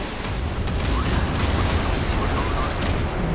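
Warship guns fire in the naval combat game Modern Warships aboard the JS Ashigara DDG-178 guided-missile destroyer, a loud dense barrage of booming shots with blasts and rumble running continuously throughout, mixed under game effects.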